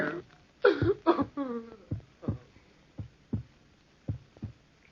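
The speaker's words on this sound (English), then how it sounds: "Listen to the heart beat its last beat." A heartbeat sound effect in an old-time radio drama of Poe's The Tell-Tale Heart gives a series of low, muffled thumps that slow and space out. A voice groans over the first beats.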